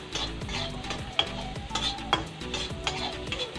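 Potatoes frying in a pan with salt and turmeric, a steady sizzle broken by repeated scrapes and stirs of a utensil against the pan, close up.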